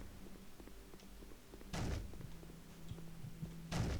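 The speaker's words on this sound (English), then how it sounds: "You can hear the guy knocking doors down above us." Heavy thuds of someone breaking down doors on the floor above in a horror video game, two muffled impacts about two seconds apart over a low droning background.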